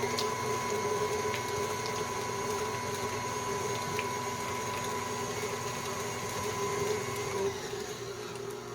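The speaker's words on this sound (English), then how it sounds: "And it may get a little loud. We're going to cream together the butter and the sugar." Steady electric mixer drone creaming butter and sugar for a cherry pie bar crust, a continuous loud whirring hum with a constant pitch, running alone without talk and easing slightly near the end.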